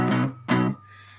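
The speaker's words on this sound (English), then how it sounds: "you mute the strings so they stop" Muted electric guitar strumming: two short, loud chord bursts, each choked off abruptly by palm-muted strings, followed by a faint lingering hum, alone with no talking.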